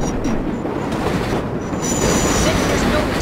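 A New York subway train in the World of Subways 4 game rumbles loudly over elevated track near Queensboro Plaza, with a steady roar, wheel squeal and faint clatter throughout.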